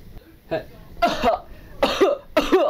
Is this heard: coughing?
yes